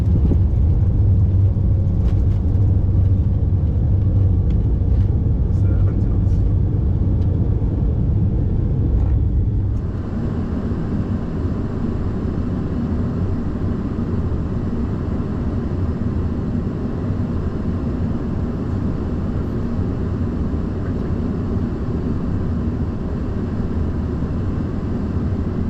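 Airbus A330 rolling out on a short runway just after landing under hard braking, a loud steady roar and rumble of engines and wheels that shifts and drops slightly partway through, then holds constant.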